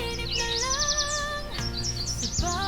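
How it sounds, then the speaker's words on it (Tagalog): Bird calling continuously with a chorus of overlapping chirps, whistled notes and rapid trills, fairly close and clear, with no talking. "Mapanganib pala itong ibon na ito dahil malaki ang kanyang beak."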